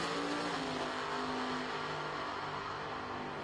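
Top Dragster drag racing cars roar down the strip, a steady, distant engine drone with a sustained pitch, heard faintly without talk.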